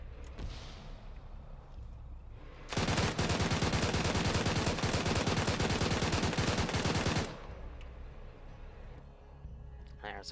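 Sustained automatic gunfire in Arma 3 hammers for about four seconds, a loud, rapid, continuous stream of shots that starts and stops abruptly, with quieter game ambience and distant shots on either side.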